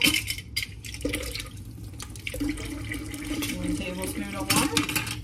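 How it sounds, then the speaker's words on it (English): A tablespoon of water splashes into a beaten egg for egg wash in a home kitchen, a short liquid pour among clinks of spoon and bowl and busy background clatter. "You're gonna add just 1 tablespoon of water to it."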